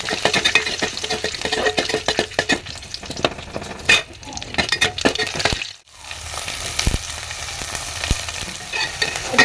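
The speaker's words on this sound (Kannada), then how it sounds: "ಕೆಂಪಾಗೋ ತನಕ ಫ್ರೈ ಮಾಡಬೇಕು" Fish frying in a pan while being stirred, a dense crackling sizzle broken by frequent scraping and clinking of a spoon against the pan, close and continuous with a brief lull midway.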